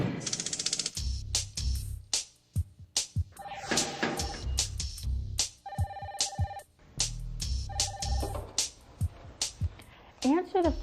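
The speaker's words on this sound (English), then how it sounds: "Answer the phone promptly, within 3 rings if possible." A telephone rings repeatedly in an office training scene, its electronic trill cutting through ongoing speech and other clattering sounds, with several distinct ring bursts spread across the stretch.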